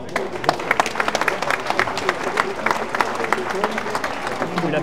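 Applause from a crowd at a Charolais cattle show prize-giving in Saint-Gervais-d'Auvergne, steady dense clapping throughout with some voices mixed in underneath.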